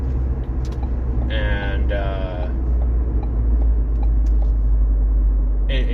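Steady low road rumble of a car driving, heard from inside the cabin, continuous and fairly loud, with a voice talking briefly over it.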